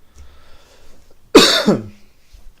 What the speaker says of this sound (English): Excuse my coughing.